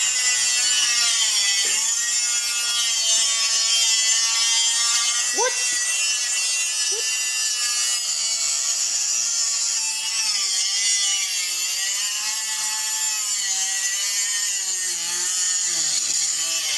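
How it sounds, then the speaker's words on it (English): A continuous harsh grinding whine runs steadily throughout at close range while grinding a metal block-off plate for a Mazdaspeed6, with sparks and occasional brief scraping accents over the top. "he's kind of grinding away"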